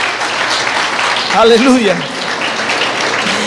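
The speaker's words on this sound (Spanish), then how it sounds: "Dele ese aplauso al Señor" Church congregation clapping as a broad, continuous wash throughout, with a voice calling out over it partway through.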